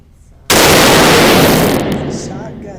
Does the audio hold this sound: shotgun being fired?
yes